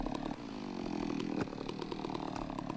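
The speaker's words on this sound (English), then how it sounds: "Stop it, chainsaw." A chainsaw in Farming Simulator 17 runs and cuts through a hedge, a steady buzzing drone with rising and falling revs, moderately loud with no talk.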